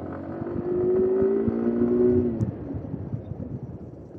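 A Hero Xtreme 160R motorcycle with a 163 cc engine starts up nearby and settles into a steady, throbbing idle that holds without speech.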